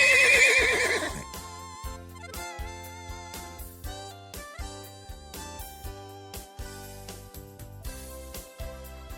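A horse whinnies loudly for about a second at the start, then rhythmic music with steady beats carries on to the end.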